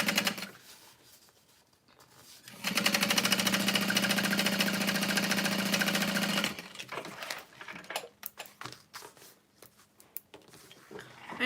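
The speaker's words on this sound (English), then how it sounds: "I'm folding the top edge over about 1/2 inch, and I'm going to top stitch." A sewing machine top stitches the folded edge of a small fabric bag, running in a steady, close whirring burst of several seconds, framed by quieter fabric handling and clicks before and after.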